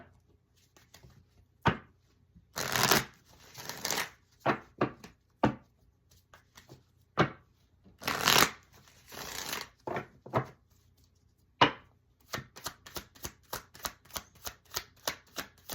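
A deck of tarot cards is handled and shuffled in irregular bursts: riffling flutters, sharp taps and thumps of cards squared on a surface, with quiet gaps between and a rapid run of clicks near the end.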